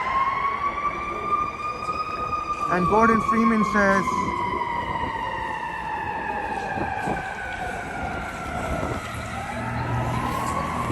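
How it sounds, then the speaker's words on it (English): A wailing emergency vehicle siren rises and falls steadily in the background of a Toronto street at night while people talk briefly over it. "So many sirens."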